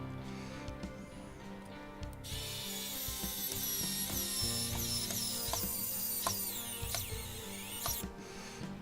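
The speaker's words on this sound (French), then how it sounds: "une vis là, à l'aide du tournevis. Ce sont des vis AP. Donc on va visser dans du plastique" A screwdriver drives a screw into the plastic chassis of a Mountain scale model kit, close, steady ratcheting clicks and squeaks in a repeating rhythm under quiet room tone, no talk.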